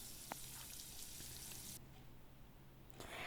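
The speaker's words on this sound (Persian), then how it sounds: "من از یک دسته چغندر هم استفاده کردم، اونو با روغن سرخ میکنم." Beet pieces frying in oil give a soft, continuous sizzle and crackle, faint and close, with no talking.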